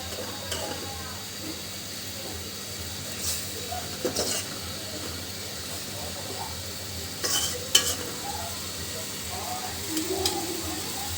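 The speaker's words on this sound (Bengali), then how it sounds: "সুন্দর করে ভুনা ভুনা করে নেব।" Fish curry cooking down in a pan as a bhuna, with a low, steady sizzle and occasional stirring scrapes at a modest level, and faint talk in the background.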